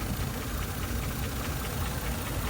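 A car engine runs steadily at a used-car market, a close, continuous mechanical rumble with a faint knocking texture and a busy outdoor hum behind it.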